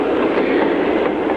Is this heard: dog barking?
no